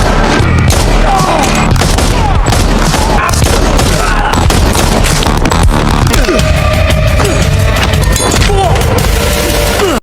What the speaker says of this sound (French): Puis des coups de feu se font entendre.